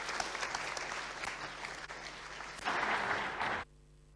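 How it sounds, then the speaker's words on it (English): A conference audience claps for a keynote speaker on space weather prediction, dense sustained applause swelling near the end before cutting off abruptly, heard alone. "Let's give him a round of applause."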